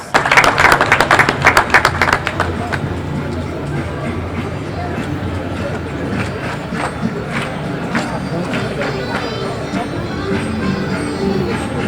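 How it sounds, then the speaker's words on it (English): Audience applause at an outdoor Day of Portugal flag-raising concert, following a folk dance group's performance; a burst of loud clapping fades into a steady murmur of crowd chatter. "Let's give them a great round of applause."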